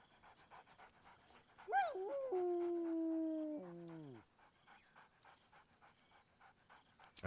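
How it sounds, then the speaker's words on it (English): A dog named in Baldur's Gate III gives a single loud, drawn-out whine or howl that rises and then holds steady for a couple of seconds before trailing off, with quiet game ambience around it. "Scratch barks merrily in something like agreement."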